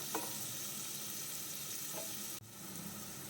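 Onions sautéing in a pan with salt for Kerala-style egg mappas, a steady soft sizzle with faint stirring scrapes, fairly quiet and unbroken, with a brief dip near the end.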